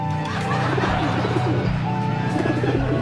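Pigeons coo inside a loft, repeated soft throaty rolling calls close by, with faint chirps and background noise and a little talk.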